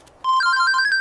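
A telephone rings with a bright electronic warbling tone that starts abruptly after a brief quiet moment and continues steadily, close and clear with no talking.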